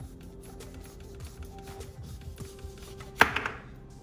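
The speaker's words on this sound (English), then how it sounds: "So when you're cutting it, first we cut the top." A knife cuts through the hard end of a butternut squash, giving one sharp, close chopping thunk near the end with a brief rattle after it, over a low kitchen hum and quiet background sounds.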